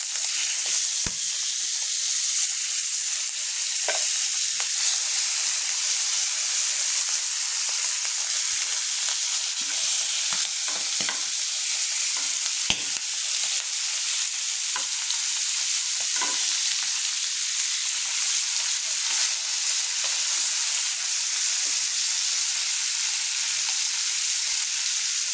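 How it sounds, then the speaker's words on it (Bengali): Fish, apparently prawns for a malai curry, sizzle steadily in hot oil in a home kitchen, with scattered sharper crackles and pops throughout and no voices. "এই যে আমার তেল গরম হয়ে গিয়েছে, আমি এই যে দিয়ে দিচ্ছি মাছ এক এক করে।"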